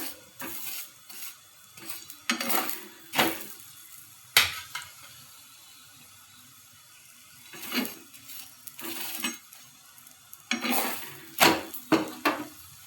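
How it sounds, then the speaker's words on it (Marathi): Paratha roasting on a pan, with bursts of scraping and metallic clinks from a spatula separated by quiet stretches where only a faint sizzle remains. "छान असा पराठा आपला भाजत आहे."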